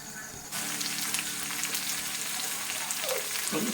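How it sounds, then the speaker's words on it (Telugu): Ingredients hit a hot, oiled pan for a light fry and a steady, close sizzle breaks out suddenly. It holds evenly for a few seconds, with faint stirring near the end and no talking. "బాగా ఫ్రై చేయొద్దండి, లైట్గా ఫ్రై చేసుకోవాలి."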